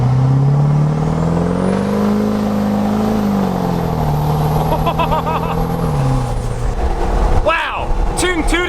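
A Duramax diesel pickup on its third tune accelerates hard from inside the cab, a loud rising engine roar with a turbo whine climbing through the gears, then easing off as someone talks over the end.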